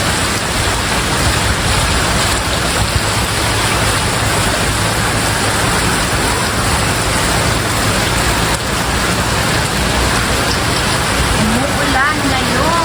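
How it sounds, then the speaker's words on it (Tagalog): Heavy rain pouring down outside a restaurant in Rosario, Agusan del Sur, a loud, dense, unbroken hiss of downpour that fills the whole scene without letup. "Sobrang lakas ng ulan ngayon"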